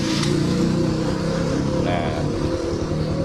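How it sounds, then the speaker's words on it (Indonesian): Honda CBR motorcycle from the 2000s being started with the clutch held in, its engine catching and running with a steady idle rumble while someone talks over it. "Sekarang kita akan coba start ya. Kita coba start dengan kopling dipegang."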